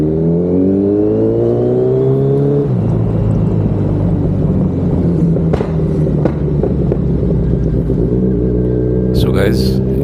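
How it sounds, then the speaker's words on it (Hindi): A Kawasaki Z900 motorcycle's exhaust drones loud and near, its pitch rising and then dropping as the rider shifts, under wind rumble, with a brief voice near the end. "काफ़ी क्लियर सुनाई दे रहा है एग्जॉस्ट नोट"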